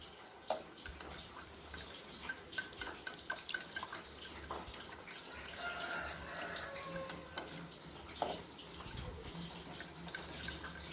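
A spoon works through a wet bhajia batter in a bowl, giving soft squelches and scattered light clicks at an irregular pace, close and fairly quiet with no talking.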